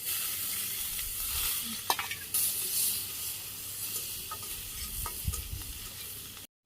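Chopped onion and green chili fry in hot oil, a steady loud sizzle with occasional stirring clicks and scrapes, continuous until an abrupt stop at the end.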